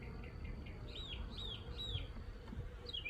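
Purebred Russian honeybees hum quietly during a package install in a backyard apiary, a faint low buzz with birds chirping intermittently nearby.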